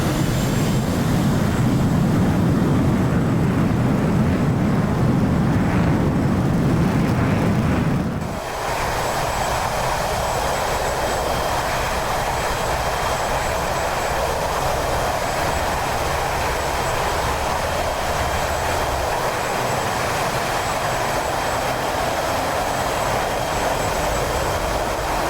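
F/A-18C Hornet jet engines roar during a bombs-loaded takeoff in DCS, a loud, steady low rumble that suddenly drops away, leaving a sustained, thinner engine whine and rushing air for a long stretch with no talk.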